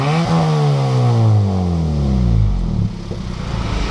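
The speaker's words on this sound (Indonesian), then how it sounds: "Bagaimana suara dari knalpot ini?" A 2015 Toyota Etios G fitted with an aftermarket racing exhaust revs hard, engine pitch climbing then falling back to a rough idle, loud and close with a raspy tone and no talking.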